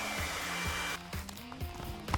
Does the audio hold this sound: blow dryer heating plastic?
yes